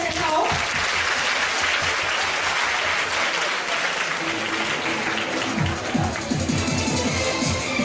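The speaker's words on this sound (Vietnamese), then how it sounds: "Xin chúng ta hãy dành một tràng vỗ tay cho thầy Lawson bước lên sân khấu." An audience at a paper lantern dance event at Kool Moon 2011 applauds steadily and loudly throughout, a dense continuous clapping with some cheering in the crowd.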